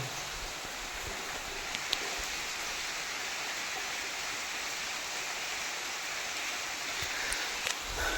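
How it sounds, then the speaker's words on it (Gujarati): Rain falls steadily at a village farm, giving an even, continuous wash of noise for the whole stretch with only a few faint ticks and no voices. "ફાઇનલી મિત્રો છે ને વરસાદ શરૂ થઈ ગયો"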